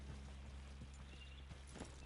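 Horse hooves clip-clop at a steady walking pace in Red Dead Redemption 2, soft rhythmic thuds over a constant low ambient hum, with no talking.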